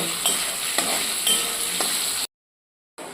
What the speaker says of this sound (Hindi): उसके बाद मीडियम करके इसे फ्राई करना है